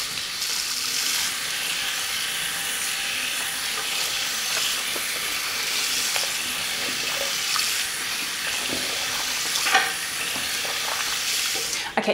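A wig is rinsed under running tap water, giving a continuous hissing splash that stays fairly loud and steady throughout, with faint handling noises mixed in.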